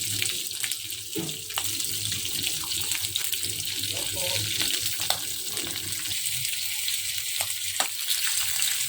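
Dried fish (tuyo) frying in a pan, a steady, hissing sizzle with occasional pops and crackles, close and continuous, with faint voices underneath.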